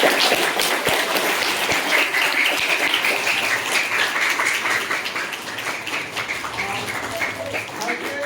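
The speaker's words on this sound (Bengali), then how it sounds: "সবাই একটু হাততালি দিন।" Sustained applause from a crowd of hands, dense and steady, with a few scattered louder claps at the start and no break across the whole stretch.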